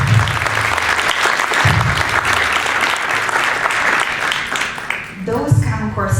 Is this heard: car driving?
no